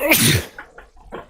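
A single loud, close sneeze bursts out and then trails into a few faint, scattered follow-up sounds and breaths.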